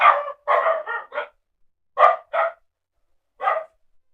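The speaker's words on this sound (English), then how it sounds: "you open and see what the dogs are doing" Several sharp barks from a dog or dogs come in quick clusters with short silent gaps between them, close and loud with no other sound around them.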